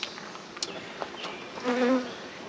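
Honeybees buzz steadily at an open hive being worked with a smoker, a close continuous hum with brief louder swells as bees pass near.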